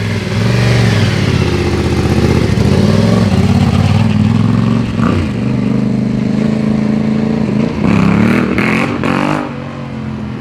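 Honda XR400 dirt bike engine revving hard outdoors, a loud sustained mid-pitched roar that rises and falls through throttle blips, with a brief sharper surge near the end, no talking.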